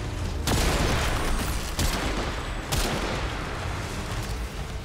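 Gunfire in Warframe: three sharp, loud shots spaced about a second apart, ringing over a dense, steady backdrop of game combat noise, with no talking.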